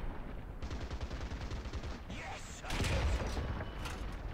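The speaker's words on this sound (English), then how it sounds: "Pretty intense firefight on that end" A firefight in the War Thunder video game, with rapid bursts of machine-gun fire followed by louder booming shots, continuous and fairly close.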